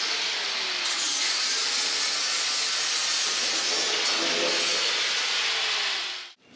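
An angle grinder grinds down protruding welds on plate steel during street stock race car firewall and driveshaft tunnel fabrication, a loud, steady, hissing roar that runs continuously for about six seconds, then cuts off abruptly.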